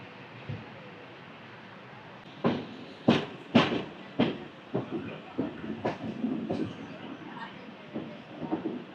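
The 16103 Pamban Express runs between Mayiladuthurai and Rameswaram with a steady rolling rumble and irregular clicks and clunks of wheels over rail joints, heard from on board and close.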